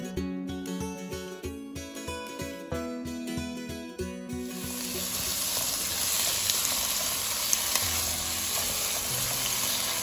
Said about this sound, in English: She adds chopped onions.